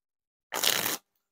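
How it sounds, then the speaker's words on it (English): A half-second riffle shuffle of Blue Knights playing cards by Ellusionist, a single close, crisp burst of flicking cards that stops abruptly, with silence around it. "The riffle shuffles and bridge shuffles feel pretty smooth."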